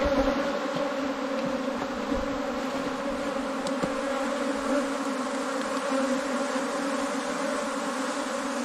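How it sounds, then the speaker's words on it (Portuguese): Honey bees swarm thickly around a packed hive box, their steady, dense buzzing holding at close range and unbroken throughout. "Olha o abacaxizão de abelha."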